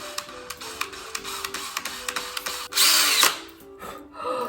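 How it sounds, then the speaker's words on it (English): A power drill fitted with a new bit bores holes, giving a run of quick regular whirring bursts followed by a longer, louder high-pitched grind and then a brief final spin, close up with no talk. "So my drill is outfitted with my new drill bit."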